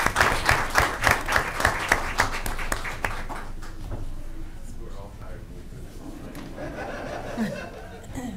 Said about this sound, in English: One more round of applause for Ms. Belinsky's students.